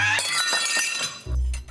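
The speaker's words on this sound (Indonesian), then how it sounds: "Aduh, itu kenapa piring bisa pecah?" A plate breaking and shattering, a sharp crash of glass-like ceramic bursting into scattered clinks, followed by a brief low thump, up close and loud with no talk over it.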